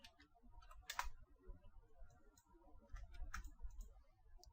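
A computer keyboard is typed on in a quiet room, soft scattered key clicks in two short bursts with a low rumble beneath, no speech.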